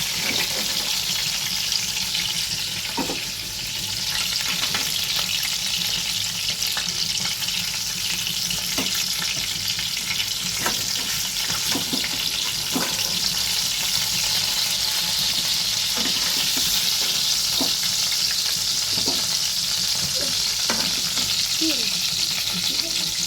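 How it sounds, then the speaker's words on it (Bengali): Hilsa fish fries in a pan, a loud, continuous close-up sizzle with scattered pops and occasional clicks of a utensil, running unbroken throughout. "দেখো মাছগুলো আমার হালকা ভাজা কিন্তু হয়ে গেছে।"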